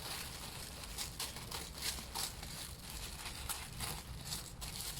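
Tissue paper crinkles and rustles close up while a small black caviar Chanel Coco Handle bag is unboxed, a soft, irregular crackling that flares in brief bursts without pause.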